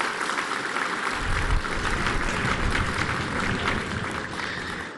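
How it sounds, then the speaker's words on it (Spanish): A large audience at the inauguration of a new public high school in Ixtapaluca, Mexico, applauds in a loud, dense, steady roar of clapping that holds for several seconds. "un gran aplauso a quien construyó esta hermosa preparatoria, Jesús Esteban"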